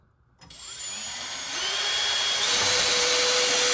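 A power drill drives screws into wheel well trim, its motor whining loud and close after a brief pause and rising steadily in pitch as it runs continuously.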